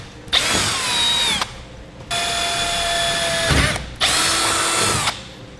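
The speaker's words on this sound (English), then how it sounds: "We'll now use our 5/16 drill bit to drill out our markings." Three bursts of a power drill with a 5/16 bit boring through a metal raingutter, each a loud high-pitched whine lasting about a second, with brief pauses between them.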